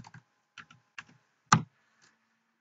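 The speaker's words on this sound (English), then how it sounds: "So type it in again, but have the command override at the end." Keys clack on a computer keyboard as a command is typed in on a Windows PC, a few soft separate clicks and short bursts followed by one louder decisive keystroke, like Enter, close and alone.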